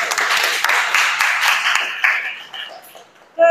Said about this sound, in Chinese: 来请大家掌声欢迎洪老师